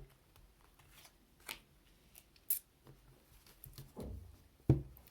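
Oracle cards being handled in a quiet room, with soft separate riffles and flicks of card stock, a few sharper snaps and a brief slide as cards are drawn, faint and intermittent.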